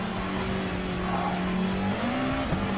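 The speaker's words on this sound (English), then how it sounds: "So we go hard on the brakes, slow it down to about 70 k's an hour." A race car engine in a racing video game drops in pitch under hard braking into a corner at Monza, a steady loud drone with faint tyre noise as it slows.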